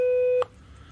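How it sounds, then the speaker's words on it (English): A 500 hertz sine test tone generated with SoX plays as a loud, steady, pure beep for under half a second, then cuts off abruptly into quiet background hiss. "And then here's one at 500 hertz."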